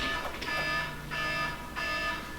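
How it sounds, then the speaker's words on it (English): A phone alarm ringtone going off in a classroom, repeating tonal beeping bursts in a steady rhythm, moderately loud across the room, with no talk. "Somebody's alarm's going off."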